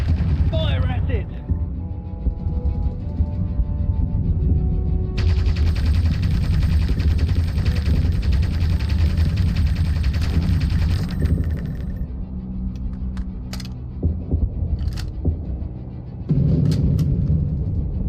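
Aircraft machine-gun fire in the flight combat video game Aviators, dense rapid bursts under a steady engine drone and game music, with sharp clicks and cracks toward the end.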